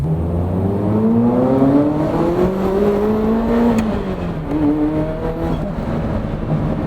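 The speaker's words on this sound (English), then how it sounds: "you can hear the turbos, you can hear everything kind of hit" A Ferrari F40's twin-turbo engine revs up steadily on a dyno, its pitch climbing before dropping and rising again, with a whirring turbo whine throughout; loud and close.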